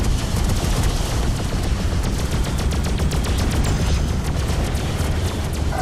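Continuous space weapons fire from Freelancer ships, a dense, rapid stream of loud crackling shots and booms with no pauses, close and sustained throughout with no voices.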